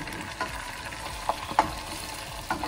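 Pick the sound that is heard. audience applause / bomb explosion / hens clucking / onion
onion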